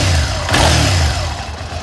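A 2005 Suzuki SV650S V-twin motorcycle engine, stock with about 19,626 miles, revs steadily and close by, a low throbbing drone that swells briefly midway and then settles back, with no one talking.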